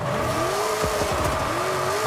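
A Chevrolet Silverado LT Trail Boss pickup drifts in Forza Horizon 5, engine droning loud and steady as the tires squeal and howl through the slide.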